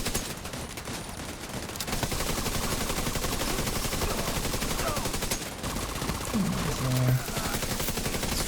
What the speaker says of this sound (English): as I hear the pop-ups of a rifle going on